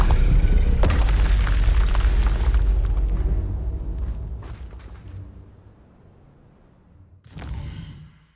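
A Bombarda spell explosion in Hogwarts Legacy, a deep, heavy boom that rumbles and slowly fades over several seconds, then a second, shorter burst near the end.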